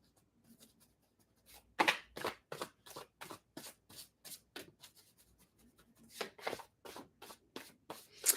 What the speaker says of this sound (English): As I'm shuffling the cards